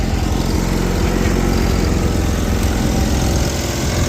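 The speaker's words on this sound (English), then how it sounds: "we got a running and driving tractor" A small Gravely garden tractor engine runs steadily with a loud, rough rumble throughout, close up, no voices.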